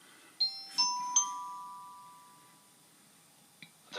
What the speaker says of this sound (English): this is another one I've done, which is another train announcement